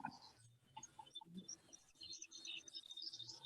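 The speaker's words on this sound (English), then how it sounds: "I hear birds." Small birds chirp and tweet outdoors in short scattered calls, fairly faint against quiet background hiss, with no talk.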